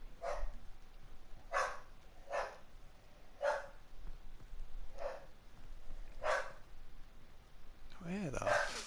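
Dogs at play in a tug of war over a toy in a video game, short repeated yips and growly barks at a steady pace, faint and somewhat distant over low background noise.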